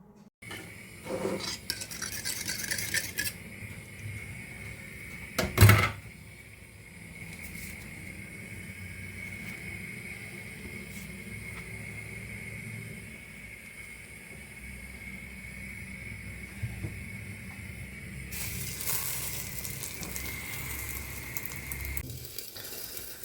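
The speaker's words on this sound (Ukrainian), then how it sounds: "Смажу так швиденько з двох сторон по три хвилинки." Food sizzles steadily in a hot pan, with occasional clinks of a utensil against the pan and a louder clatter early on.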